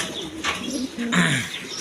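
Caged high-flying Giribaz pigeons coo softly in a few short, low burbling phrases, close by, with faint chirps and background noise.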